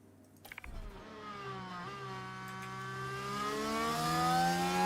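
A Formula 1 car engine in F1 Manager 24 at the Sakhir circuit hums steadily, then its pitch climbs in a long, rising whine as it accelerates. The sound grows gradually louder, with no speech.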